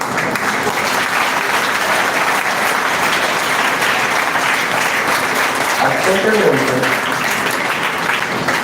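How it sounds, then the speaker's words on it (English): A crowd claps loudly and continuously throughout an investiture ceremony, a dense, sustained round of applause with a faint voice underneath near the end. "I am requesting a special round of applause only for Saurabh sir"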